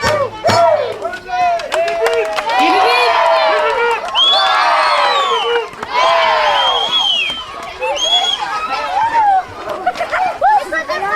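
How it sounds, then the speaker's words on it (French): A festival crowd at the close of Wanakat 2015 cheers and shouts loudly, with voices rising and falling continuously, clapping and children's shouts mixed into the din. "Et on applaudit bien fort"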